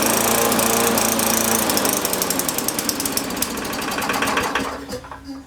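An MTD Yard Machines push lawnmower with an oil-fouled cylinder and a tight governor runs close by at high, surging revs, a dense rattling mechanical drone that stays loud for about five seconds before dropping away near the end.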